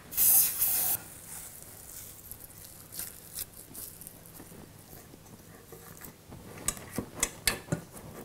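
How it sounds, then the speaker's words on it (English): A burst of cooking spray hisses into a cake pan for about a second near the start, followed by faint rustling and light tapping sounds. "We're going to grab our cooking spray."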